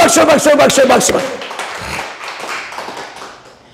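A church congregation clapping in a loud, dense burst that starts right away, then thins out and fades over a few seconds.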